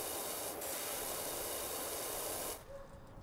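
In PowerWash Simulator a pressure washer sprays with a steady, close, broadband hiss that cuts off abruptly near the end, with no talking over it.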